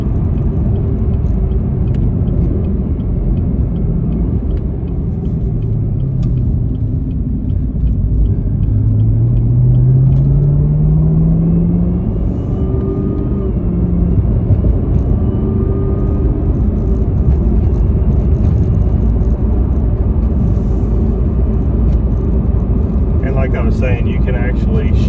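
A 2020 Chevrolet Camaro ZL1 1LE with an automatic transmission drones steadily under way, a loud low engine and road rumble with gear-change pitch sweeps, while someone talks over it throughout.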